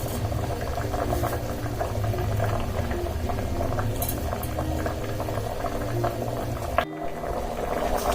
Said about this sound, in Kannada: ಇವಾಗ ಕುದಿಯೋದಕ್ಕೆ ಸ್ಟಾರ್ಟ್ ಆಗಿದೆ